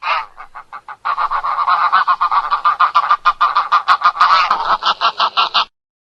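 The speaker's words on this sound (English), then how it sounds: "Wild goose." Wild goose honking loudly and close, a long rapid series of nasal honks in quick rhythmic succession with no other sound.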